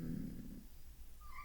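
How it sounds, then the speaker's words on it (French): A cat gives a soft, low purring rumble up close, then lets out a brief, faint rising meow at the very end, with no voices present. "Vous venez d'entendre le chat miauler."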